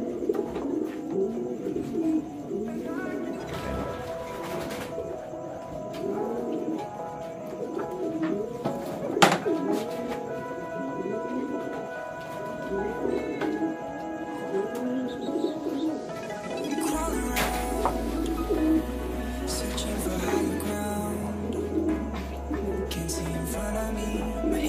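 Pigeons of imported racing lines coo steadily inside a loft, soft repeated coos layered over a busy bed of bird noise, with a brief louder burst midway and a heavier rumble joining near the end.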